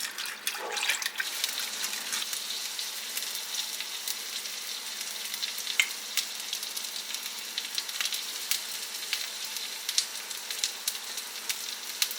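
Grits with dissolved bouillon cook in a pot on the stove while being stirred, giving a steady, close bubbling hiss with faint scraping throughout and no voices.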